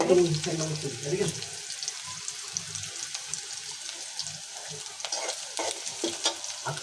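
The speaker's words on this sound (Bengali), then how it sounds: "একটু লাউ দিয়ে আমি গোস্তের তরকারিটা বসাইতেছি" Meat curry with bottle gourd, onion, chili and garam masala sizzles in a pan while being stirred, a steady close hiss broken by soft scraping stirs, with a brief voice-like sound at the start.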